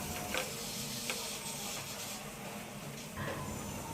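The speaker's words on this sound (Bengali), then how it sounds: "সরিষা বাটা দিয়ে আবারও দুই মিনিট ভেজে নিব" Mustard paste, turmeric and chili powder fry in a pan for a jujube pickle, giving a soft, steady sizzle with faint stirring scrapes throughout.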